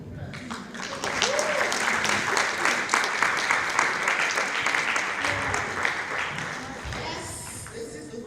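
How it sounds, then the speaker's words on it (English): An audience at the Women's International Networking Conference in Nigeria applauds the gentlemen in the room, a steady roomful of clapping and some crowd noise lasting several seconds, with voices faintly mixed in. "And I think we especially need to applaud the gentlemen in the room."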